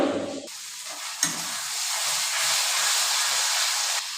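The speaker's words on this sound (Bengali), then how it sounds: "মছলা একদম কচাই আছোঁ" Masala spices fry steadily in a pan for a Bengali rohu or catla fish curry, a continuous close hiss and sizzle after a brief bump at the start, with faint stirring clinks and no talk.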